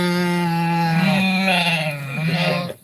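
A single drawn-out sheep-like bleat, a voice imitating the animal, rings out loud and close, wavering and then breaking off sharply.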